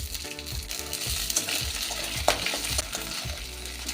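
Coconut, raisins, peanuts and peas frying in a pan for a banana-flower ghonto, stirred steadily: continuous close sizzling with rhythmic scraping strokes and no speech.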